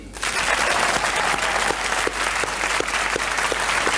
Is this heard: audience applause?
yes